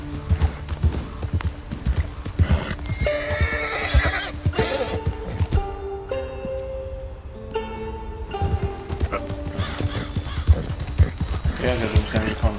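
A horse ridden in Red Dead Redemption 2 gives several loud neighs and whinnies over a steady clip-clop of hooves, with a voice coming in at times.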